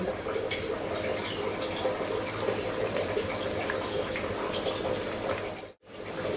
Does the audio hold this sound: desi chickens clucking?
no